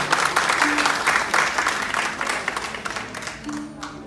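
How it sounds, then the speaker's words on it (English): A live audience at an evening feng shui talk aboard a cruise ship claps in sustained, dense applause for the host's entrance, steady throughout with a few brief crowd calls rising above it. "A round of applause."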